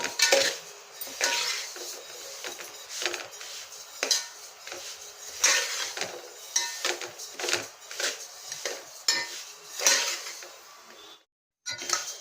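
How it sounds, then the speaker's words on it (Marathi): Polished sesame seeds dry-roasting in a pan over a low flame, stirred with a utensil that scrapes and clinks against the metal in steady, repeated strokes, close and fairly quiet with no talking. "तीळ मंद आचेवर भाजून घ्यायचे।"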